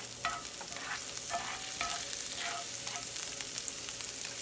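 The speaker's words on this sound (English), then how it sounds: "we're just going to let those cook a little bit until they're translucent" Chopped onions fry in a pan for scrambled eggs, a steady broadband sizzle with intermittent spoon-stirring scrapes and clicks, close and continuous without any talking.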